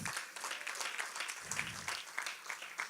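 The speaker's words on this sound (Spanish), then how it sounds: "Dele un aplauso al Rey." Church congregation applauding at a Spanish-language sermon, a steady wash of many hands clapping at moderate volume throughout, with brief voices murmuring underneath.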